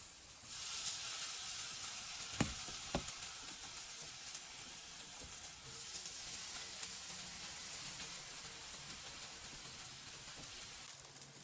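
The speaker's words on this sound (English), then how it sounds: "Now let's get these patties sizzling." Impossible and Beyond plant-based burger patties frying on an oiled griddle, a quiet, steady sizzle and hiss with a couple of sharp pops early on.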